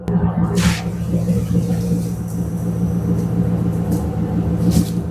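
Chevrolet C3 Corvette V8 engine held at a steady rumbling rev, a loud low drone with a couple of brief hissy bursts over it.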